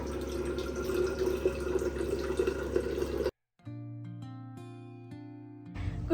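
Waste water gushes steadily from a home water purifier for about three seconds, then cuts off abruptly and is followed by soft electronic tones.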